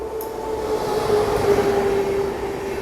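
Purva Express train passing a station in India, a continuous rumbling roll with a sustained high squealing tone from the wheels, fairly close and steady, no speech.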